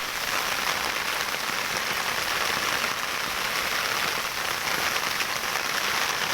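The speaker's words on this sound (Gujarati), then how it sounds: "વરસાદ છે ધોમે ધમ." Heavy rain pours down in a steady, dense hiss of drops hitting the ground, loud and unbroken throughout with no voices.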